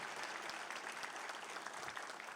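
A church congregation at a Sunday service claps together in a dense, continuous round of applause, faint and distant but steady throughout.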